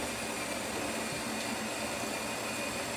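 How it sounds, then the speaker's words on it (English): An ENA Micro 9 espresso machine grinds coffee beans with a steady, continuous mechanical whir that holds an even level throughout, with no talking. "It's going to grind."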